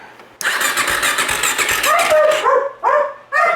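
A motorcycle engine cranks and fires up, then runs loud and close with revving pulses, while a dog barks repeatedly alongside it.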